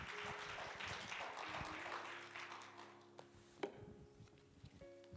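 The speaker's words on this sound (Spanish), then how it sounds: "Un aplauso para Roxana." A church congregation at a Wednesday service claps in a short burst of applause that thins out and fades within a few seconds, faint and somewhat distant.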